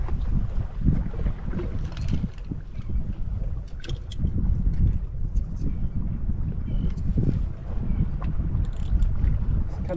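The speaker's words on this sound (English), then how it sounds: "It's kind of windy today." Wind blowing at a lake bank while fishing, a steady rumbling buffet of microphone wind noise that stays loud and close for the whole stretch, with faint gusts rising and falling.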